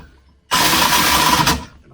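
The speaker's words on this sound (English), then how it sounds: "so I'm using the impact. Locked on this side. Grab the spanner and just pulse it in." An impact wrench rattles in one loud, rapid burst of about a second on the head bolts of a Mk3 Cortina with a blown head gasket. It starts abruptly out of near silence and cuts off sharply.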